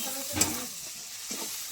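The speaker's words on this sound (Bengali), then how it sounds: "সব কিছু দিয়ে ভালো করে মশলাটা একটু কষিয়ে নেব" Spice masala with cumin powder, chili powder and salt fries in a pan while being stirred, a steady close sizzle broken by a couple of scraping stirs.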